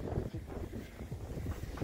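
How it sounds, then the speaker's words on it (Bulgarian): Wind blows outdoors in a steady low roar, buffeting the microphone in continuous rumbling gusts. "задуха един вятър"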